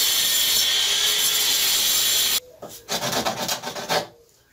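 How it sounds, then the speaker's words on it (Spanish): Sanding a water pipe fitting during a plumbing repair: a steady close rasping scrape, then a sudden stop and a few shorter rough rubbing strokes before quiet. "Ahora vamos a lijarlo."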